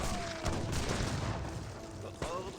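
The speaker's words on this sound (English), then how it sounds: "He cannot take out the cannon, and these cannons are just ripping apart." Cannons fire in Age of Empires 3 battle gameplay, a dense rumble of booms and impacts with a sharp blast near the end, under a commentator's voice.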